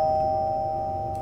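A doorbell in the horror video game Waffle Cone Willie sounds a single sustained electronic chime, loud and clear over a low background hum.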